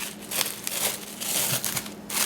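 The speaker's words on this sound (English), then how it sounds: "once you've let your modeling chocolate set overnight, then you just want to unwrap it" Crinkly plastic wrap is peeled and rustled off firm modeling chocolate that has set overnight, a close, continuous crackle with no talking.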